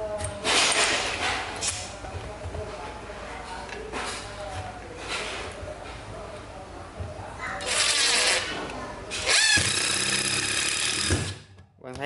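A Ryobi cordless impact driver sinks screws into wood in rapid hammering bursts with whirring pauses between them, close and loud, while someone talks over much of the work.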